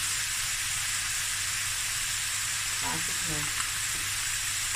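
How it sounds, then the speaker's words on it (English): Spices for sausage fried rice frying in a pan, a steady loud hiss of sizzling oil held close, with a brief stir and faint tonal clatter partway through. "Stir it some more. Let the spices cook through."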